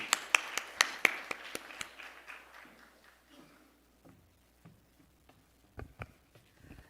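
At a church evangelism seminar, a small audience claps in a quick scatter of crisp claps that thin out and fade into quiet room noise.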